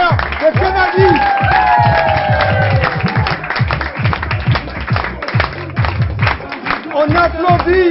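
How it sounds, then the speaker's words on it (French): Clapping and cheering from a studio audience at a televised anniversary special, dense and near, with voices shouting and talking over the applause the whole way through. "On applaudit les téléspectateurs de Canal 10."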